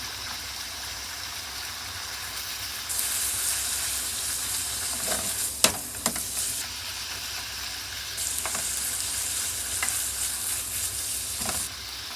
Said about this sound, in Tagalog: Halu-haluin lang natin siya para hindi masunog.